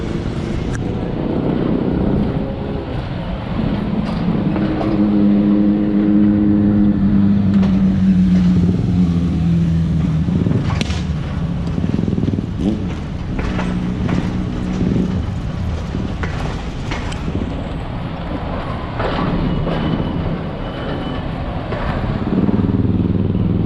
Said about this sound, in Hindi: यहाँ देखिए रोड के साथ साथ ट्रेन चल रही है